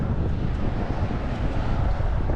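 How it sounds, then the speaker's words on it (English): Loud, blustery wind gusting over 50 mph in Las Vegas buffets the microphone during an e-scooter ride, a dense low roar that surges and wavers continuously with no voices. "we're having the wind gusting to over 50 miles an hour"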